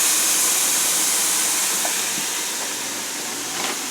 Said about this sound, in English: Can you handle the sizzle?